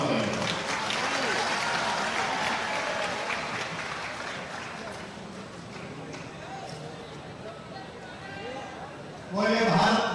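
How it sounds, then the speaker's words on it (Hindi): A large outdoor crowd at a BJP election rally in Hatpipliya applauds to welcome the chief minister, Shivraj Singh Chouhan, a broad sustained roar of clapping and crowd noise, with voices rising loudly near the end. "जोरदार तालियों से आइए।"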